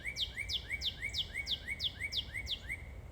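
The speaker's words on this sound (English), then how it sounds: "Yes, I am listening to a bird right now." A small bird singing outdoors along a trail, repeating a bright rising-and-falling phrase about nine times in a steady rhythm, clear and fairly close over faint background hiss with no talking.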